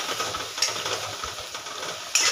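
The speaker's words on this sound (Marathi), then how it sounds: "व्यवस्थित हलवून घ्यायची।" Coarsely ground spinach being stirred in a hot pan for dhaba-style garlic palak, a steady sizzling hiss with soft scraping strokes and a couple of brief metallic clinks of the spoon.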